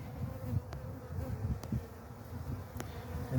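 Dense honeybee buzzing drones steadily around an opened golden hive during a February inspection, a close, continuous hum with a few sharp clicks scattered through it.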